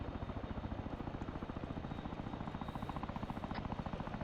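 Chinook helicopter in a military video game, a fast, steady rotor thump that pulses evenly and stays close and heavy throughout, with no voices.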